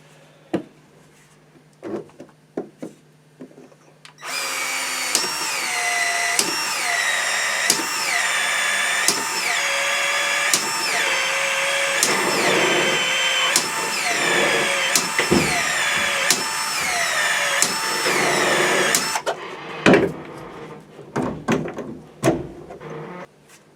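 Power drill with a 3/4 inch bit bores holes on an off-grid homestead. It whines loudly and steadily for about fifteen seconds with small pitch dips as it bites, then stops, leaving quiet handling noises before and after.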